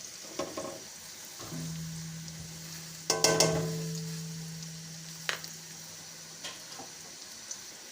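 Spices frying in masala in a pan, a soft continuous sizzle with occasional clinks and stirring knocks, faint and without talk.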